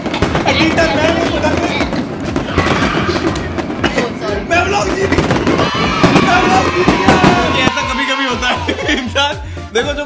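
Firecrackers go off in dense, continuous crackling and popping, loud and close, while people talk and shout over them throughout.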